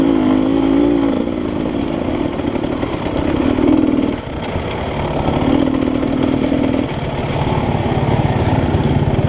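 A motorcycle engine roars up close during a race at Beer Ranch East, rising and falling in pitch as the rider shifts and throttles through repeated acceleration runs, loud and continuous with no speech.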